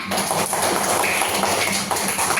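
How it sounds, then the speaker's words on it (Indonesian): A classroom of children claps together, a dense steady patter of many hands close by that fills the whole moment. "kita tepuk tangan buat Juna"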